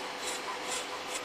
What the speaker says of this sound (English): To replicate the radius edge of the worktop, roll the sander over the edge.